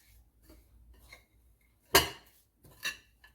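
Spoon scraping and clinking in a bowl while masala is mixed with lemon juice as a stuffing for bitter gourd, with two sharp clattering strikes standing out among softer intermittent scrapes; no talking.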